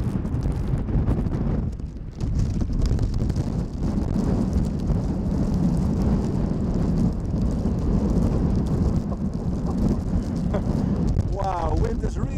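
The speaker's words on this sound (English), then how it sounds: "wind is really picking up now" Strong gusty wind roars steadily across the microphone outdoors at Schiphol Airport during stormy weather, a loud, continuous buffeting rumble that lasts throughout with no pauses.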